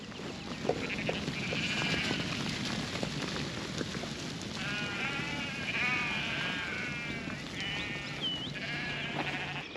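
Sheep bleat repeatedly in a flock being herded out through a gap on a farm, several overlapping calls near and far over a steady background hiss like light rain.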